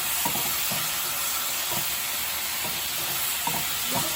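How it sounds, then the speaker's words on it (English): Garlic and baby bok choy stirred in a hot stir-fry pan, with a steady bright sizzle under repeated scraping strokes of the spatula, several per few seconds, loud and close with no voices. "So stir it again until all mix well together"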